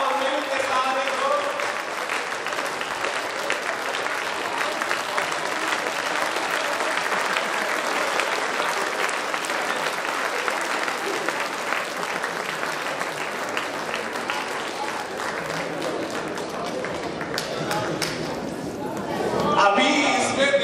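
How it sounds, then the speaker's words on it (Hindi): A live audience claps together in a dense, sustained burst of applause lasting the whole stretch, loud and even, with crowd noise mixed in and a slight swell near the end. "ताली बजाओ मिलके सारे दोस्त।"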